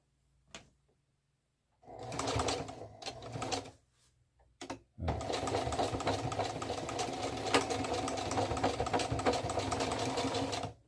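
A sewing machine runs steadily, stitching a tapered hem on camouflage trousers. A few short bursts come first, then a long, even, close-up whir of continuous stitching.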